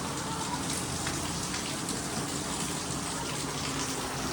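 Heavy monsoon rain in Surat falls continuously, an even rushing hiss of water splashing on surfaces, close and unbroken throughout.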